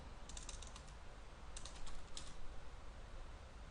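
Typing on a computer keyboard while entering Cisco voice gateway dial-peer commands, with two short bursts of quick key clicks over a constant loud hum.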